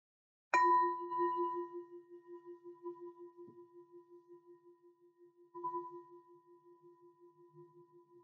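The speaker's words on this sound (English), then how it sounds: "as the sound of the bell fades away" A meditation bell is struck once and rings with a pure, sustained tone that slowly fades, then is struck again a few seconds later and rings on, softly pulsing as it decays in a quiet room.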